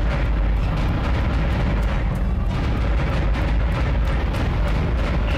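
A space gun fires at asteroids in Dead Space, its blasts merging into a dense, continuous roar of rapid booming shots with no pauses.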